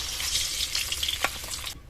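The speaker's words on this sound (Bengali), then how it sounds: "বাকি কুমড়োগুলো দিয়ে একইভাবে ভেজে নেব।" Pieces of pumpkin fry in hot oil, giving a steady close-up sizzle with crackling pops, ending in a sudden cut to near silence.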